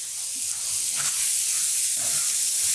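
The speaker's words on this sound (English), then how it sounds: "work the hot water and use the power of steam to clean the griddle" A wet paper towel laid on a hot Blackstone griddle gives off a loud, steady hiss of steam. Faint scraping sounds come through underneath, with no talking.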